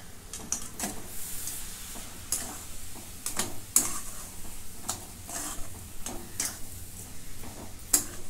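Coconut ladoo mixture of fresh coconut, milk and cream being stirred in a pan, giving a steady soft scraping and faint sizzle with repeated sharp spoon taps against the pan, close and continuous, with no speech.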